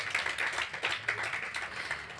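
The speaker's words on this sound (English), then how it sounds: "Round of applause." An audience claps as one round of applause at a live stage event in Berlin, steady dense clapping that carries on without a break for the whole stretch.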